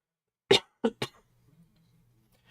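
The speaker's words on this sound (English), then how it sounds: "I've been coughing so much lately." Three sharp coughs in quick succession, close and loud, followed by near silence with a faint low hum.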